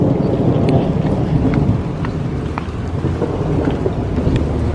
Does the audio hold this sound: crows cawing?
no